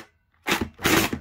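An SRB400 Splatrball gel blaster fires beads in two short, sharp bursts, close and fairly loud, with no talking.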